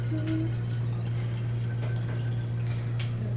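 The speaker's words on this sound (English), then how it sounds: "And add even more water." Water is poured into a tube to set up a vibrating air column during a physics class demonstration: a faint, steady pour under a constant low electrical hum, with no talking.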